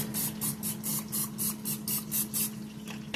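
Butter spray misted over chicken in an air fryer: a quick run of about nine short, hissing spritzes in an even rhythm, close and fairly soft.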